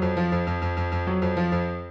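An acoustic piano MIDI part plays from Cubasis on an iPad, with a steady sequence of sustained, evenly spaced chords and notes, clean and full with no talking.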